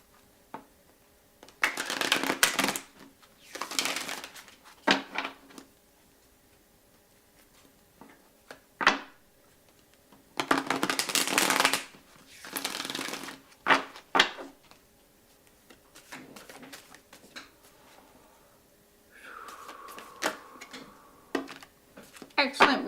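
Oracle cards from the Sacred Destiny Oracle deck being shuffled in several bursts of papery riffling and sliding, close and fairly loud, separated by quieter pauses.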